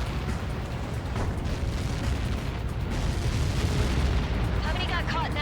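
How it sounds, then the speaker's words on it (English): A massive explosion in Ace Combat 7 rumbles as a sustained, heavy low roar that swells and lingers, loud and close, with faint radio-style chatter near the end. "How many got caught in that explosion?"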